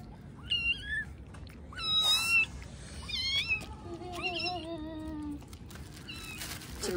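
A cat meows repeatedly indoors at home, a series of close, rising and falling cries with short pauses between, mixed with faint household noise and no clear talking.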